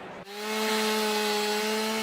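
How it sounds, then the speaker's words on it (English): A chainsaw bites into a log for chainsaw sculpture, starting abruptly after a brief pause and then holding a loud, steady droning whine close by, with no talking. "As long as I've got a couple logs and a chainsaw"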